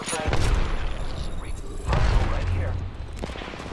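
Gunfire rattles through a video game battle, a couple of loud close bursts with mechanical clatter between them while a voice talks over the action.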